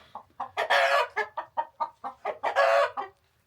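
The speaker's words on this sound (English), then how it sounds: "Chickens and roosters." A lively burst of chicken clucking, rapid repeated squawks from several birds close by, with louder cackles rising twice.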